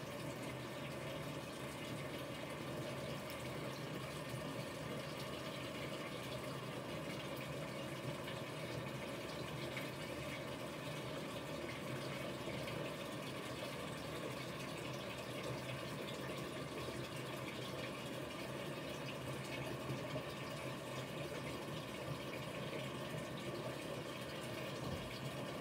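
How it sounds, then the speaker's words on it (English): Water gushes steadily through the fabric softener handle of a Haier portable mini automatic washer as it is rinsed out, making a continuous close rushing flow with no talking. "I follow it up with some water and just rinse it out"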